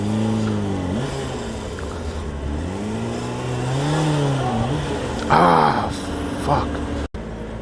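Car creeping through slow, near-walking-pace city traffic in Los Angeles around Pasadena, a steady low engine and road rumble throughout, with someone talking and swearing over it and a brief sharp clunk near the end.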